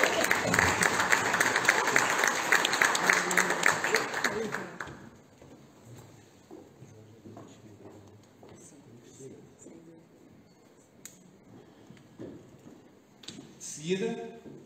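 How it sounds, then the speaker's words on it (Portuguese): Dense audience applause fills a school education forum conference hall for about five seconds, then fades into quieter room sound with a voice speaking faintly and a brief stir near the end. "Uma salva de palmas"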